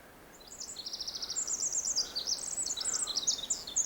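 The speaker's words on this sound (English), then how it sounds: "Well, that bird's sure singing." A bird sings outdoors near a rock slide, a faint but steady run of high, rapid trilled phrases over a soft breezy background.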